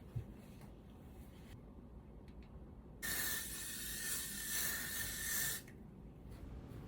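A can of Got2b Glue hair spray gives one steady hiss lasting a couple of seconds over faint background noise, while hair is being styled on clip-in extensions.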